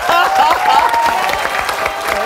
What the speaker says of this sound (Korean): 이때쯤 박수가 나오는 거예요